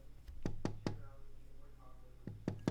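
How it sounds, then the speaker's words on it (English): Knocking on a door comes in two groups of three sharp raps, close and fairly loud, separated by a quiet pause with a faint voice murmuring in between. "I knocked."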